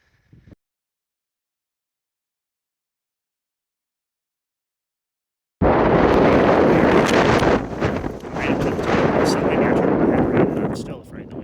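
Strong wind at a viewpoint on a mountain volcano, buffeting the microphone: after a long silence, loud roaring gusts burst in and keep rumbling and fluttering unevenly to the end.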